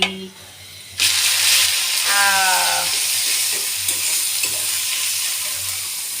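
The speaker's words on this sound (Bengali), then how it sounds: "এই তো আমি লাল শাক ভাজি করছি" Red amaranth greens stir-fry in a pan with a steady, close sizzle and occasional stirring clicks, and a brief voice-like tonal sound rises early on.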